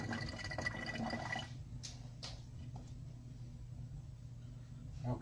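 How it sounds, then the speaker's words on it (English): Water from a kitchen tap splashes over hands being rinsed, a steady close rush at first that stops partway, followed by a couple of faint drips and quiet room noise. "Let me rinse off my hands here."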